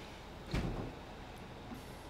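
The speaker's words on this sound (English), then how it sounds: "Just people shutting doors is loud in here right now." A single dull thud of a door being shut nearby indoors, one short low-pitched knock rising briefly above a faint, steady room hum.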